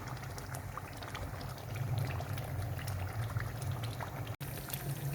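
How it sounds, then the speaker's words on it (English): Mixed stock pours into a simmering Nigerian stew with a soft, continuous liquid gurgle and bubbling, quiet and close, with a brief dropout near the end. "I'm just going to add a bit of mixed water, my mixed stock."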